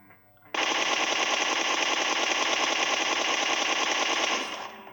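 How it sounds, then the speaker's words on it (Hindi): Sustained full-auto burst from an M4 rifle in PUBG, a dense, loud, unbroken rattle of rapid shots lasting about four seconds before trailing off, with no talking. "M4 की गोलियां हैं, एकदम सीधी तीर की तरह चलती है।"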